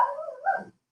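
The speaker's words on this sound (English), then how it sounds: "That's the mail person coming in to drop off the mail, so that's why she's barking." A single short dog bark or whining yelp at a mail carrier's arrival, close and moderately loud, dropping away into silence.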